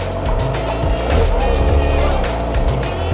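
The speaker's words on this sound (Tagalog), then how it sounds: "Daming motor." A steady stream of motorcycles and scooters rides by close in a busy provincial town street, a dense, continuous engine drone with overlapping passing revs and buzzing.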